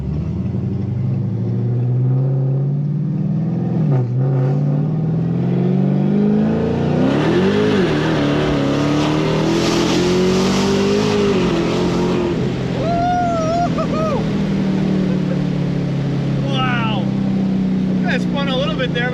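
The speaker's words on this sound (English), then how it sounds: "I love the way the exhaust sounds. I love the way the whine sounds." A loud Dodge Challenger Hellcat accelerating hard, deep exhaust roar climbing in pitch with a rising supercharger whine layered on top, close by, with people talking over it.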